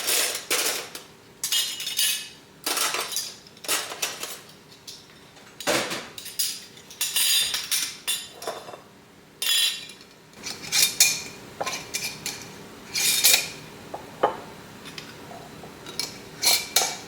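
Metal canning rings clinking and scraping as they are fitted and screwed onto glass jars of homemade beef bone broth, heard as repeated short metallic clatters spaced irregularly, with quiet pauses between them.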